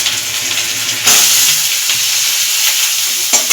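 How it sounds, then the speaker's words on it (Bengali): A spice paste of grated ginger, garlic, chilli, ground cumin and turmeric sizzles loudly in a pan and is stirred steadily, with a sharp burst of frying partway through; no voices. "এর মধ্যে একটু চিনি দিয়ে আমি এটাকে ভালো করে কষিয়ে নেব"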